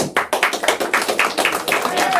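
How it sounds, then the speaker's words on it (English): A small audience at a real-estate investor meeting gives a round of clapping, distinct individual claps in an uneven rhythm, close by, with a voice cheering over them. "Give him a round of applause."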